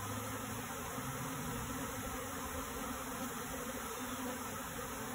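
A captured honeybee swarm fans its wings in a box, giving a continuous, even hum that holds steady from start to finish under broad background hiss.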